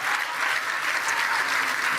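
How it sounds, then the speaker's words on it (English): A live audience breaks into dense, steady applause, many hands clapping together at close range for two seconds with no pause. "it seems that fucking anything gets a round of applause from that audience"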